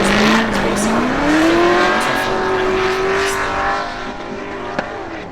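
Drift cars competing in a pro-am drift competition round, engines screaming loudly and continuously at high revs with rising and falling pitch as they slide through the course, close by, with tire noise mixed in.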